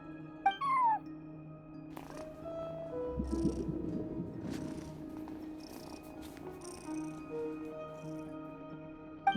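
A cat watching over a front desk in the video game Genshin Impact purrs steadily and lets out a few soft meows over quiet background music.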